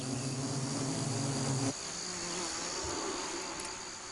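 Defensive guard bees swarm around a colony in Assam, making a dense, steady, close buzz that shifts briefly partway through and then carries on without any voices.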